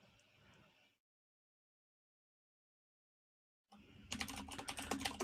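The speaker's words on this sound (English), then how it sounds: "Listen to the beautiful sound of me typing things while I try to find background music to fill the time." Someone types on a computer keyboard. Faint tapping gives way to a second of near silence, then a quick run of sharp, close clicks and key thuds fills the last moments.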